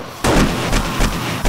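A few heavy gunshots in the survival game 7 Days To Die: one loud booming blast followed by several more spaced reports, close and forceful, with no voices.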